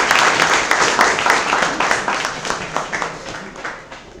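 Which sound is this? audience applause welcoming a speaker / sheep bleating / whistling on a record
audience applause welcoming a speaker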